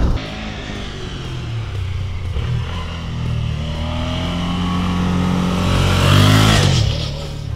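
A Suzuki V-Strom 650XT motorcycle from 2017 is ridden through curves, its engine a steady close drone that rises in pitch and loudness toward the end, with wind noise and no talk.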